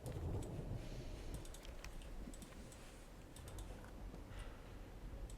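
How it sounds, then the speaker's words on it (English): Portable typewriter keys clacking in the video game Call of the Sea, scattered crisp taps in short irregular bursts over a low rumbling ambient bed, fairly faint, with no voices. "It was the Portable typewriter."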